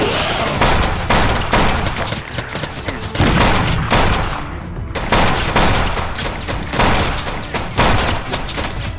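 Rapid gunfire in the video game Misery as a player shoots at a monster, loud sustained bursts of shots with a brief pause midway before firing resumes, close and dominant with no talk over it.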